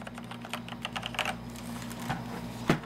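Typing on an Azio Levetron Mech 5 mechanical gaming keyboard, a quick run of close, crisp keystrokes with a few louder clacks near the end, over a faint steady hum.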